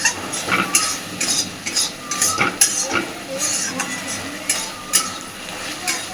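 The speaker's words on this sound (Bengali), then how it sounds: "খুব ভালোভাবে সবকিছুকে মিশিয়ে দিলাম।" Vegetarian taro stolons being stirred with raw mustard oil in a pan, giving soft repeated scrapes and light utensil clinks in an uneven rhythm, close by, with faint background noise.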